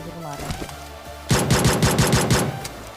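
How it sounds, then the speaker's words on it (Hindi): Automatic gunfire in the video game PUBG, a close, loud burst of rapid shots in an even rhythm lasting under two seconds, preceded by someone talking and quieter game sounds. "राइट वाला बंदा भाई तभी हम पे कुछ फायरिंग शॉट्स लेता है"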